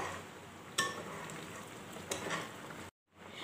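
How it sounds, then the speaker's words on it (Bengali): Prawn malaikari curry stirred in a pan after garam masala paste and ghee go in, a soft, steady sizzle with a couple of spoon scrapes, then a brief cut to silence before the sizzle resumes. "এবার খুব ভালো করে সব মিশিয়ে নিলাম।"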